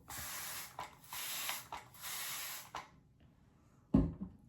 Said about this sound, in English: And then I just start spraying my skin.